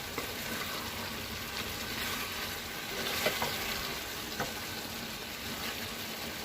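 Basmati kushka rice is stirred in a pot over heat, a steady soft sizzle and bubbling running throughout with faint stirring scrapes and no voices.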